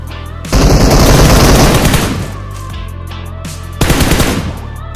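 Automatic gunfire in the mobile battle royale game BGMI (Battlegrounds Mobile India), a loud sustained burst of rapid shots for about two seconds, a quieter lull, then a second loud burst near the end, with no talking.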